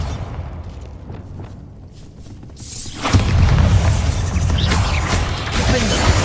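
The Bombarda explosion spell goes off in Hogwarts Legacy, a sudden loud blast that erupts midway and rolls into a sustained rumbling crash of debris, following a quieter stretch of game ambience.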